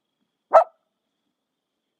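A pet puppy gives a single short, sharp bark close by in an otherwise silent space, with only a faint trace of sound following at the very end.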